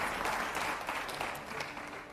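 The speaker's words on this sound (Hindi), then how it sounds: "जोरदार तालियां होनी चाहिए" An audience in a televised political interview studio breaks into steady, dense applause, sustained clapping from many hands at moderate loudness throughout.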